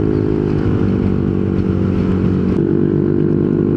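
Yamaha Nmax scooter fitted with a 4S1M Street Core V3 muffler, its engine running in a steady, loud, continuous drone at close range with no clear rises or breaks.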